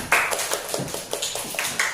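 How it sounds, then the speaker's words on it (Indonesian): Students in a classroom clap their hands together in a quick, uneven patter of light claps over two seconds, close by and fairly soft. "Bagus, tepuk tangan."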